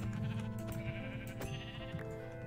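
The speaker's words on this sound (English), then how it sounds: "I'm gonna go kill the sheep now." Sheep in Minecraft bleat in a steady wavering tone that carries through the whole stretch, clear and unbroken with no voices over it, during a survival game.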